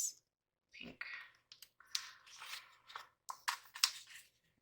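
Scissors snip through pink paper in a run of short, crisp cuts, close and fairly quiet, while a person speaks softly in the background.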